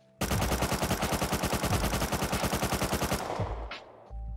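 MP5 emptying a continuous full-auto spray in the video game Rust, a rapid, evenly spaced stream of loud gunshots lasting about three seconds, then cutting off into a short fading tail.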